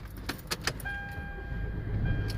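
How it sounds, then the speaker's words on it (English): A 2004 Toyota Camry that won't crank or start: keys jangle and click in the ignition, then a steady electronic warning tone sounds with no engine turning over, close and fairly quiet. "I'm trying to start the car now to see."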